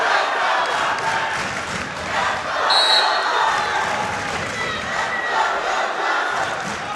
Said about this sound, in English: you can probably hear the adopted Hilltop fans cheering in the background